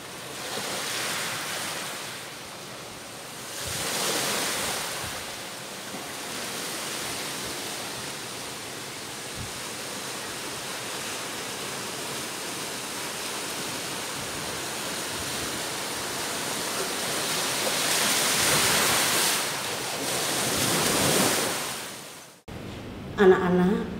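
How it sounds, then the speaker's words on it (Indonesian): Ocean waves break on rocks at a beach, roaring surges rising and falling in broad slow swells over continuous surf hiss with wind, loud and close, no talking, ending abruptly with a brief faint clatter. "inilah bunyi ombak"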